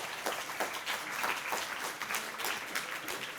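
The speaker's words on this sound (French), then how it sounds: "Applaudissements pour ce monsieur brillant." Audience applause fills a lecture hall during a talk about mathematics, a dense, even wash of many hands clapping at a fairly soft level, with no speech over it.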